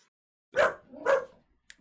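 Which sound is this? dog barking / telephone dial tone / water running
dog barking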